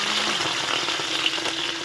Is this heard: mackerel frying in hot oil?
yes